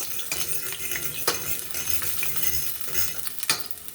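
Onion goes into a hot pan of mixed vegetables and rice, with a steady sizzle, scraping stirs and a few sharp metallic clinks of a utensil against the pan.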